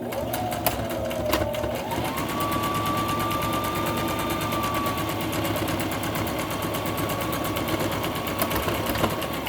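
A sewing machine stitches the side seams and bottom of a tote bag stiffened with heavy interfacing, running as a steady close mechanical whir with a rising hum and no talk.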